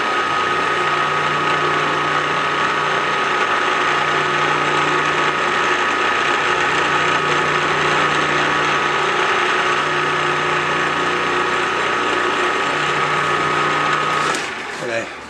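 A PM-940 milling machine center-drills 304 stainless steel with a high-speed steel bit, a steady, loud mechanical whine and grinding hum that runs unbroken for about fourteen seconds, then cuts off.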